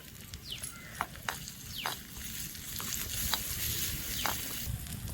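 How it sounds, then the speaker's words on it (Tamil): Tomatoes sautéing with onions and ginger-garlic paste in a pan for a crab kulambu, giving a steady close sizzle with occasional sharp spatters and scraping stirs. "இப்போ நம்ம தக்காளி போட்டு வதக்கிக்கலாம்."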